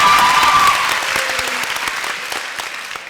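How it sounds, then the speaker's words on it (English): A high school graduation crowd gives the seniors a loud round of applause, dense continuous clapping from many hands that slowly tapers off. "can I have the audience give a round of applause to us seniors?"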